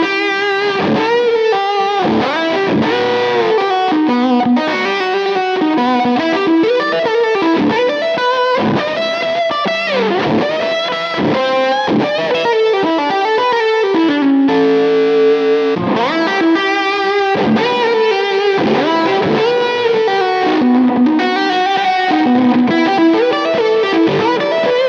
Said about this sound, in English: Now let's hear some fuzzy tones using fingerstyle guitar